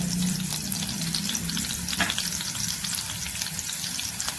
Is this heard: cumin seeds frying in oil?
yes